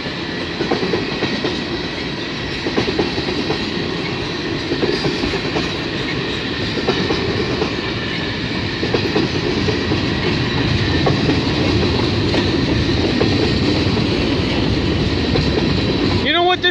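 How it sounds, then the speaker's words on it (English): CN freight train 422 with chloride cars rolls past at Scotch Block, a loud continuous rumble with rhythmic wheel clatter over the rails and a faint squeal, sustained from start to finish. "Yep, this is a 422 train we're seeing right now."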